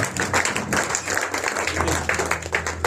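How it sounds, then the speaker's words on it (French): A church congregation claps hands in praise, a dense, steady patter of many hands that fills the room over a low, sustained musical hum. "Let us clap our hands"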